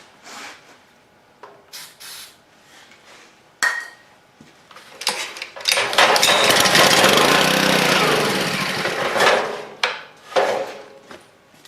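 A small gas engine on a homemade can crusher built from junk, with a faulty choke, sputters with scattered clanks and then bursts into a loud, rough running roar for several seconds before dying back down.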